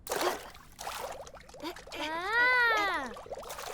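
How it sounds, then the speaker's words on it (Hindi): Cartoon water pouring as soap is mixed in, heard as a trickling, splashy stream that swells briefly and then fades, mixed with short bubbly cartoon effects, moderately loud and close. "रुको, पानी में साबुन मिलाता हूँ।"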